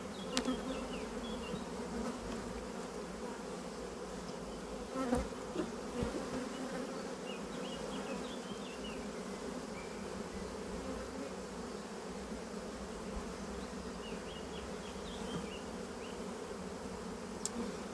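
Honeybees hum in a steady, dense drone around an opened colony hive, close and continuous, with occasional louder buzzes as single bees fly near.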